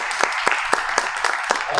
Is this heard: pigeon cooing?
no